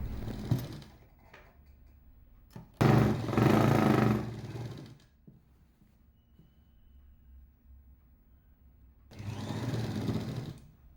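A sewing machine stitches a dhoti salwar pant in three separate bursts of close, loud, rapid mechanical whirring, with quiet pauses between the runs and no talk.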